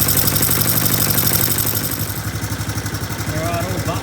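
A Honda CT110 motorcycle engine idles steadily at 1300 RPM, close and loud, with an even, rapid thumping beat throughout and a brief voice near the end.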